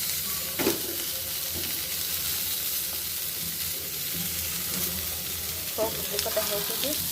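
Sliced spiny gourd (kakrol) fries in a pan, giving a loud, even sizzle that hisses steadily from start to finish. A couple of faint utensil clinks come near the end.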